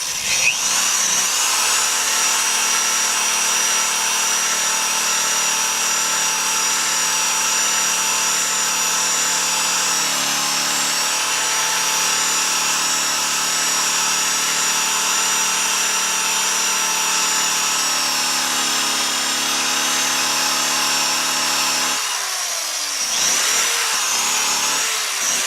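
A steady, high-pitched whine from a Harbor Freight drill at about 2,000 RPM spinning an orange buffing pad polishing metal with Flitz, running continuously and loudly, with a short dip and change near the end.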